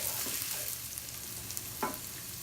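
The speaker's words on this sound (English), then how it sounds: "So I'm going to let these onions soften just a bit." Onions and garlic softening in a hot pan for a Brussels sprouts and corn side dish, a steady low sizzle with a faint stir or two, quiet and close.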